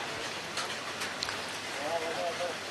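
Rain falls at an airport as a vaccine shipment is unloaded from a Garuda plane, a continuous soft hiss under a reporter's speech.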